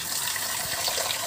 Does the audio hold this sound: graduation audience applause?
no